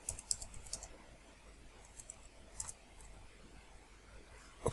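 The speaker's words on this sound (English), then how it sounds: "We're going to type ping and our practice lab DC01 machine name." Fingers type a ping command on a computer keyboard, with a handful of light, quick key clicks in short clusters, faint and close in an otherwise quiet room.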